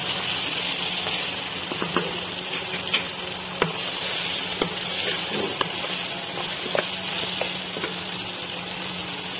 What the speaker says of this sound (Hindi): मटन डालते इसे फ्राई करेंगे।